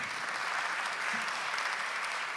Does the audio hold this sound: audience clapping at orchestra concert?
yes